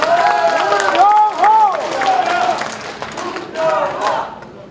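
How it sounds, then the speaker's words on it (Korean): At a Korean party delegates' convention, a crowd of members answers with loud shouts and cheering over scattered clapping, the voices rising in bursts across the few seconds. "동의하시면 박수를 보내주십시오"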